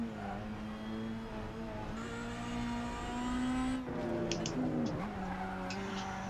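Ford Focus MK2 engine in the Assetto Corsa racing game, droning steadily at mid revs with rising pitch as it accelerates, plus brief tire squeal bursts near the end, loud and continuous with no talk.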